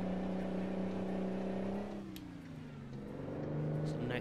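Mack truck engine in American Truck Simulator, a steady low drone holding its pitch, then dipping and easing back as it shifts and rebuilds, loud and continuous throughout.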